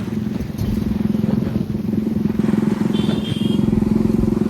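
A Bajaj NS motorcycle fitted with a modified exhaust runs close by with a steady, loud engine rumble that holds an even idle throughout, with no voices.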